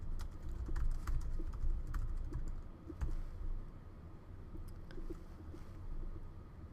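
Scattered keystrokes tap on a computer keyboard while a message is typed, irregular clicks spread over several seconds against a low background rumble, close and moderately loud with no voices.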